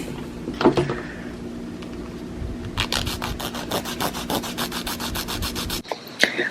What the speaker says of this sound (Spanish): Lo demás lo voy a arreglar con la lima.